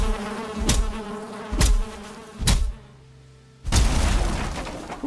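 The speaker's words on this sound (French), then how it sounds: "Ah bah ici, il y a des abeilles, tiens." Bees buzz around a hive in the Valheim survival game, a steady insect drone broken by several sharp thumping hits, a brief quieter gap, then the buzzing and hits return.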